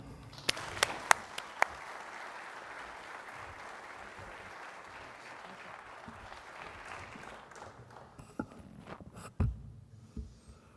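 An audience at a school event claps warmly to welcome a nun to the stage, sustained applause from a room of people, with a few sharper claps at the start and the clapping thinning out toward the end.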